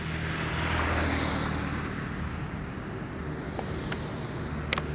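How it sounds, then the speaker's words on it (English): A truck creeps slowly closer along a road in Japan between Yawatahama and Matsuyama, a broad low rumble with road noise that stays loud and steady, with wind buffeting the microphone. "That is just one truck that approaches for ages"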